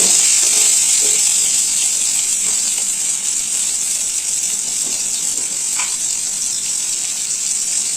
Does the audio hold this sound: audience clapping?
no